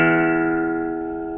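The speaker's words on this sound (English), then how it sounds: "make the string that on your guitar sound like this" A steady guitar-string reference tone, struck once and held, sounds by itself as a clear harmonic pitch that decays gently, meant for matching a string while turning a tuning head.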